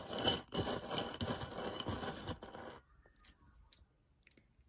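Tarot cards are shuffled and drawn, making a dense rustling clatter for a few seconds before it stops abruptly. Near silence follows, broken by a few soft taps.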